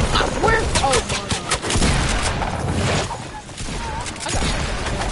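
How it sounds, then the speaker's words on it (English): Dense, continuous video game gunfire with rapid overlapping shots and heavy booms filling the whole stretch, loud and close, with a player's voice talking over it. "I'm getting shot from the side."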